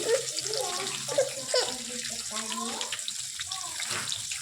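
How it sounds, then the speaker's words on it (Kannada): Onion fries in hot oil for avalakki (poha), a steady watery hiss and crackle close by, running under a person talking. "ಒಂದು ಈರುಳ್ಳಿ ಹಾಕೊಳ್ಳೋಣ ರೀ"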